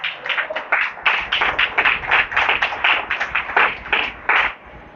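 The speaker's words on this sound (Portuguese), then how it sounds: "Vamos aplaudir bem forte ao Senhor por essa palavra." A small church congregation applauds after a sermon, with sharp, uneven claps ringing out for several seconds before tapering off at the end.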